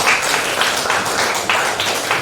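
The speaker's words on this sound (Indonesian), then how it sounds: "Tepuk tangan buat Adriana" Students in a classroom clap steadily together for a classmate named Adriana, a short burst of close, continuous applause.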